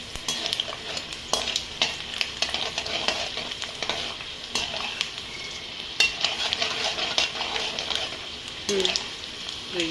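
Chana dal stir-fried in a pan for puliyogare gojju, oil sizzling steadily as a spoon scrapes and clinks against the metal, with occasional speech over the cooking.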